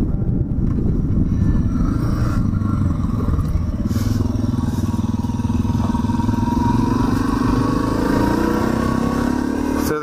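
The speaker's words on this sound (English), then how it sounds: "especially with the big KTMs up there spinning their tires" Big KTM dirt bikes ride and spin their tires on dusty quad trails, their engines droning loud and steady throughout with a rising pitch as one accelerates.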